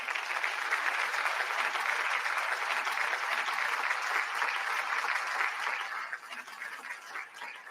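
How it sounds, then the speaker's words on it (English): An audience claps steadily for several seconds, dense and even, then thins out toward the end, with no talking over it. "Give them a round of applause"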